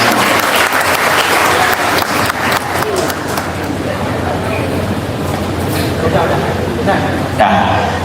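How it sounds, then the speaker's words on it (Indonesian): An audience at a university event with new students applauds students who came up front, a broad, sustained wash of clapping from a large hall with voices mixed in. "Tepuk tangan buat mereka yang sudah maju semua."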